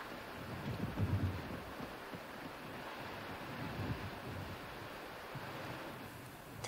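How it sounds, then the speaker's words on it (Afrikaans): Thunderstorm with rain and thunder: a steady wash of rain and wind with two deep rumbles of thunder near the start and middle, no voices. "Dis 'n verskriklike storm."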